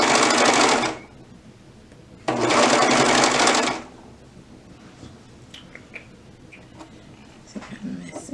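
A sewing machine stitches pants onto a waistband in two loud, steady bursts of rapid needle clatter, each about a second and a half long, separated by quiet pauses with faint handling clicks.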